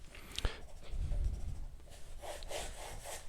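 Pencil strokes zipping back and forth across paper while drawing plastic lines past dots, a quick series of scratchy rubbing sweeps close by, repeated in a steady rhythm.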